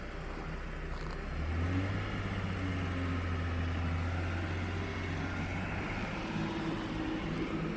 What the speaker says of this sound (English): Cold start here.